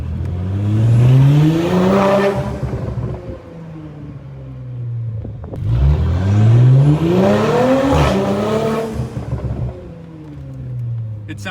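A B9 Audi S5 with a Carbnlab decat downpipe revs hard twice, the exhaust climbing to a loud roaring peak and falling back, with turbo whistle on top; close and powerful, and a voice is faintly heard.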